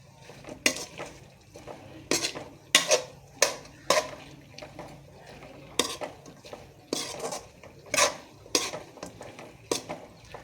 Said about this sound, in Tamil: இதை நாம் இப்படியே நல்லா விரட்டி விட்டுக்கலாம்